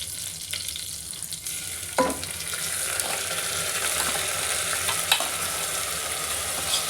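Lentils and rice fry in oil for pongal with a steady close sizzle, broken by a few sharp scraping stirs around the two- and five-second marks, moderately loud and with no voices.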